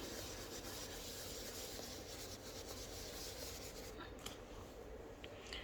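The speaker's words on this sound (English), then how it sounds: "And then I just do the edges. Rub on those edges." Steady, close rubbing on paper edges while inking them during a card-making craft session, a continuous soft scuffing texture with no talk over it.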